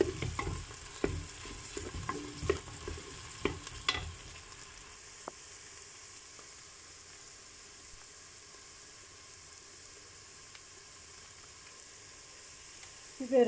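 Chili powder and tomato paste fry in a pan with a soft sizzle and a few stirring knocks early on, settling into a quiet, steady hiss.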